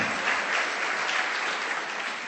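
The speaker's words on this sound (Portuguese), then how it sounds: "Pode aplaudir, irmão." Steady applause from a church congregation during a family seminar, dense and continuous clapping throughout with no talking over it.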